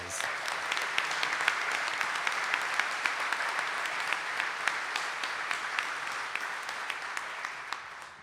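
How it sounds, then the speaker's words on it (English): An audience at the Grinnell College Alumni Assembly applauds graduates with a sustained round of clapping, steady and fairly full throughout, with scattered sharper claps standing out before it tapers at the end. "let's give them a round of applause"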